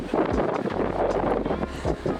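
Wind buffets a microphone on a beach, a low roaring rumble that swells and gusts continuously with broadband hiss, fairly loud and close, with no clear speech over it.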